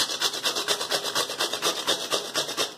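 A whole ridge gourd is grated by hand, with close, rhythmic rasping strokes repeating about five times a second and nothing else heard.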